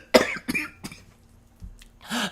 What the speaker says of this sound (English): she thinks I'm coughing for real